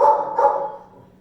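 A dog gives two quick, loud, close barks in a row, the second trailing off into a short fade.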